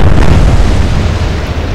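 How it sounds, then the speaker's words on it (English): A naval broadside booms in the warship game Atlantic Fleet. A very loud, rumbling blast fills the whole moment, heavy and low, then fades slightly as it rolls on. "Broadside away."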